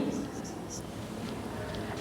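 Numbers being written out by hand, a series of short, dry scratchy strokes that repeat irregularly over a soft, steady background noise.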